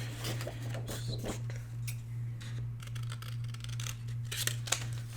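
Scissors snip through paper during mini album crafting with horse-themed papers, a run of quick crisp cuts over a steady low electrical hum, close and fairly quiet with no talking.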